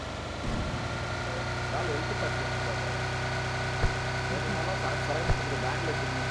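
A vehicle engine idles with a steady low rumble in a video game while the car is parked, a continuous drone with a couple of brief clunks, heard under ongoing talk.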